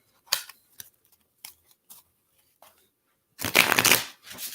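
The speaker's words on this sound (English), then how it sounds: "So I'm just going to shuffle for a little bit." A deck of tarot cards being shuffled by hand: a few brief isolated riffles and taps, then a longer, louder burst of dense rapid card flutter near the end, close up and without talk.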